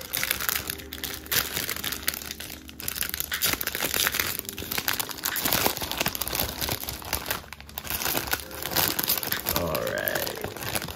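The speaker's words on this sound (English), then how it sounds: "let's open up these Jumbo Wumbo cards" A Pokemon Jumbo card pack wrapper being torn open and handled, loud close crinkling and crunching plastic throughout, with a few brief vocal sounds.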